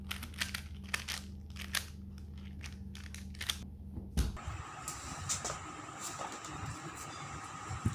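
A 3x3 Rubik's Cube being shuffled gives fast, irregular plastic clicks and rattly crunches close by, after a stretch of low background hum.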